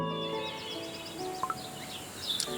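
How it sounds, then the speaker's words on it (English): Small birds chirping in Cookie Run: Kingdom, a scatter of light high tweets over soft game music, with a couple of brief sharper chirps near the end. "Hello, little birds. Come for your morning berries again?"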